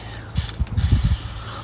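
Short bursts of WD-40 penetrating oil spray hissing close up onto bolts on a farm mower, several quick squirts in a row against a low background hum.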